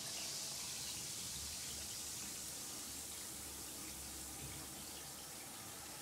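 Lush cupcake-scented bath bomb dropped into a filled bath, giving a steady soft fizzing hiss with a faint low watery rumble throughout, fairly quiet and continuous with no talking.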